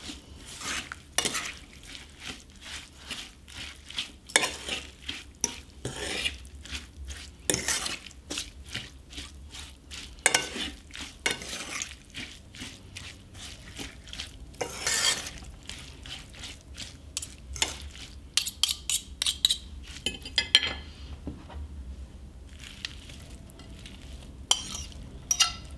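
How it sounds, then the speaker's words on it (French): Courgettes being stirred in a pan, with repeated scraping and clinking of a utensil against the pan over a soft sizzle, steady and close with no talking. "Et je mélange."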